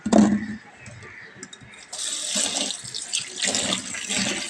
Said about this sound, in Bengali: প্রথমেই আমি আলুটাকে ভালো করে জল দিয়ে একটু ধুয়ে নেব